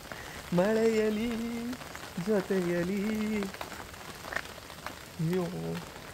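Steady rain patters down in a soft, even hiss throughout, beneath a voice singing in sustained phrases with pauses between them.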